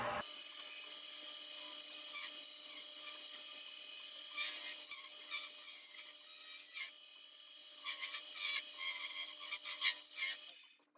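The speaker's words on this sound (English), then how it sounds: "Now what I need to do is come back with the carbide and match that tip shape" A carbide cutting tool scrapes and shapes the tip of a wooden competition spintop, producing a thin, steady rasping whir that rises into a few louder scraping bursts toward the end.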